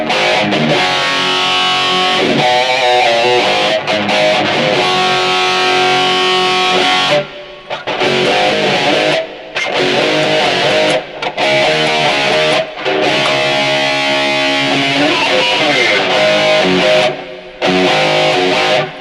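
An electric guitar set to a 1978 tone with the delay off plays loud, heavily distorted riffs with chords and single notes for nearly twenty seconds, broken by a few brief pauses.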